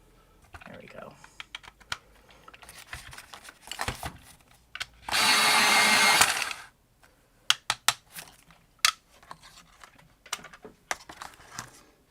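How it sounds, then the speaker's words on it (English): An electric pencil sharpener at a card-making craft desk whirs loudly for about a second and a half, surrounded by scattered taps, clicks and handling noises of supplies. "Just so you can see what kind of sharpener I'm using"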